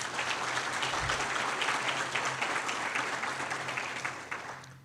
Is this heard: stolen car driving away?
no